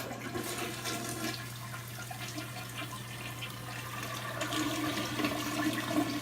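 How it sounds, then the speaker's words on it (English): A rebuilt toilet flushes with a steady rush of water that swells toward the end as the tank refills, close and alone with no talking. "So here's our flush."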